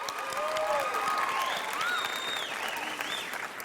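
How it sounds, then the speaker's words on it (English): Audience at the Miss Oklahoma pageant in 2009 applauding a featured vocalist, sustained full-room clapping with scattered whoops and whistles riding over it. "Let's give another round of applause to our featured vocalist this week, John Flanagan."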